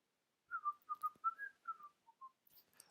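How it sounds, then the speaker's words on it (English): A person whistles a short, faint melody of about eight clear notes in quick succession, alone in an otherwise quiet room. "I'm going to start whistling, and that's not a good thing."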